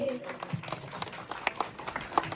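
A group of people clapping their hands at an Onam celebration, a loose patter of claps spread through busy background noise with voices mixed in.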